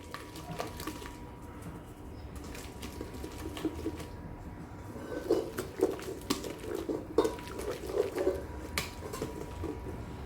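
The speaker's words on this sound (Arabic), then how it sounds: "كنبقى نخلط بالطراب بحال هكا حتى كيقرب يتجمع لي الخليط" A spatula scrapes and knocks inside a bowl as soft Turkish brioche dough of flour and salt is mixed, giving irregular close clicks and scrapes over a low background hum.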